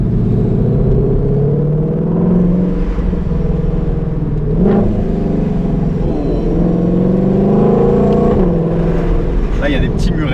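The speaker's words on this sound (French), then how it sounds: "Donc là, on met l'échappement en mode race, j'entrouvre les fenêtres." Ford Mustang Shelby GT500 V8 with its exhaust set to race mode, a loud deep rumbling engine heard from inside with windows cracked, rising and falling revs as it accelerates, with someone talking over it.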